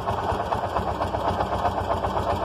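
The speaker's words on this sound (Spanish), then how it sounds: "Voy a dejarle acá una hora prendido el motor, a ver si recarga la batería" Car engine left idling to recharge an aging three-year-old battery, running as a steady, close, continuous drone with a faint rhythmic pulse and no voices.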